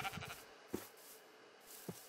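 Sheep in the Minecraft video game let out a few short, faint bleats against a quiet background, with soft isolated thumps in between.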